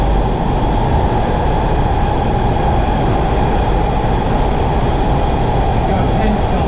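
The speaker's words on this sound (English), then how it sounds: "So that was a ride on Kawasaki 7172 on the red line between Rockville and Medical" A WMATA Kawasaki 7172 Red Line metro train running toward Medical Center station, a loud steady rumble of wheels and motors heard from onboard, with a faint squeal near the end.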